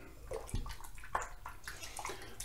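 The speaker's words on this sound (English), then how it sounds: "Add a little water to my face." Water running from a tap as it is splashed onto a face before a wet shave, a soft, close, uneven trickle and splash lasting a couple of seconds with no talking.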